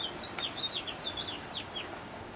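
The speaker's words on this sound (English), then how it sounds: "And listen to that happy little bird." A small bird chirps repeatedly in quick, high-pitched tweets over a faint steady background hiss.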